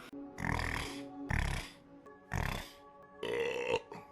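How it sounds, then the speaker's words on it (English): A man burps repeatedly after drinking a VA energy drink, four loud, close belches separated by short pauses, the last one longer and rising. "This VA is really, causing me to belch a lot."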